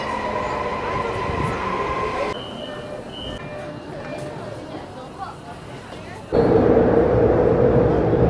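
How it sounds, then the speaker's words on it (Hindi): A metro train in China rumbles and hums steadily through a station, with a sudden loud rise in broadband noise near the end as it pulls in. "ये लो मेट्रो आ गई।"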